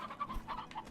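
A short burst of chicken clucking from the video game Slime Rancher, close and fairly clear, with a few quick overlapping calls.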